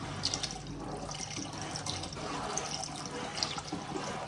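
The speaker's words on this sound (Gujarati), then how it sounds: "તો હવે આપણે આમાં પાણી ઉમેરી દઈશું।" Water is poured into a pot of misal being cooked at home, a soft continuous splashing with small drips, fairly quiet and steady without talk.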